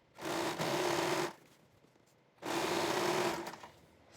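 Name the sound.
sewing machine stitching elastic onto a fitted bed sheet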